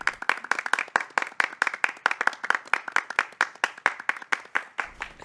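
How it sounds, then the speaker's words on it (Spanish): Lively applause from an audience, dense rapid clapping filling the room for about five seconds before tapering off. "un aplauso a Astrid Lindgren."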